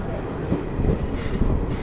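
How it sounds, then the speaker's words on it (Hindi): Trains pulling into a busy Indian railway station on the New Delhi–Ranchi route, a steady low rumble of rolling rail cars with faint clatter throughout, fairly loud and continuous. "दोनों ट्रेन एक ही साथ अराइव हो रही है।"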